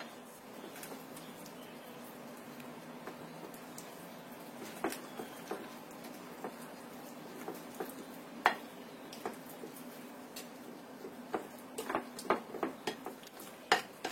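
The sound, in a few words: stirring butter or margarine with egg yolk in a bowl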